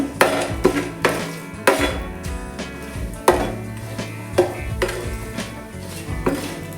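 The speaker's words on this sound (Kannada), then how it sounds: "ಚಕ್ಕೆ, ಲವಂಗ, ಪಲಾವ್ ಎಲೆ ಹಾಕಬೇಕು. ಫ್ರೈ ಮಾಡುವ ಸ್ವಲ್ಪ." Cinnamon, cloves and bay leaf frying in coconut oil for mushroom biryani, with a utensil knocking against the pan in about half a dozen loud, irregular clanks over a faint background sizzle.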